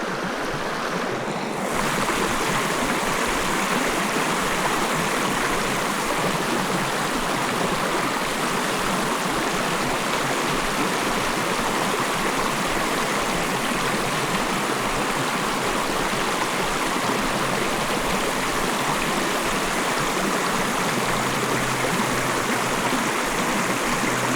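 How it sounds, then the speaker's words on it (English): A small New Hampshire brook with a little cascade rushes steadily and loudly close by, a constant broadband wash of falling and flowing water throughout with no talk. "Little cascade coming into it."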